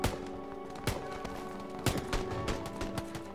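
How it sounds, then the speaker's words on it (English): Scattered sharp gunshot cracks in PlayerUnknown's Battlegrounds, a few louder bursts among quicker distant pops, over a steady background hum; game gunfire with no talking. "I hear gunshots"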